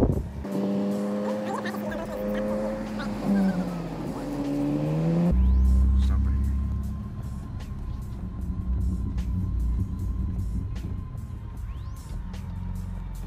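A manual transmission car driven by a learner working the clutch and gas, with engine revs rising and falling in steady tones, then a lower, rougher drone as it pulls away, close and continuous inside the car.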